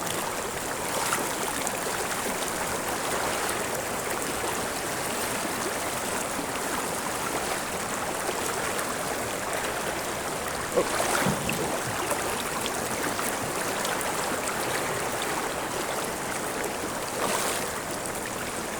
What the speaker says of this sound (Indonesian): alirannya lumayan cukup deras